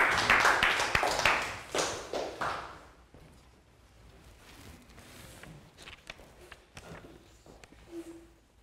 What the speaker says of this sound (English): Round of applause for Nadia